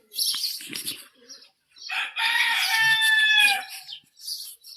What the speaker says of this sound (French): Il fait du bruit ton coq là.